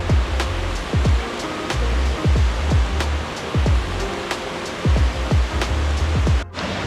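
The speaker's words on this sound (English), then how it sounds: "I can hear the waterfall." A waterfall in Wales gives a continuous broad rushing roar, steady and fairly loud, with faint low thuds scattered through it and no voices.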